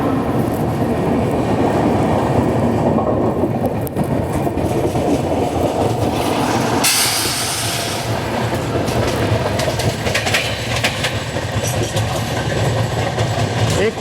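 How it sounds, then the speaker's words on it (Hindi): A Mumbai–Ahmedabad double decker express train running at speed while overtaking another express, with a loud constant rumble, rhythmic clickety-clack of wheels and a sudden rush of air as the other train passes close by. "चलिए यहाँ पे हमारी ट्रेन ने ओवरटेक कर लिया है तिरुनेलवेली जामनगर एक्सप्रेस को।"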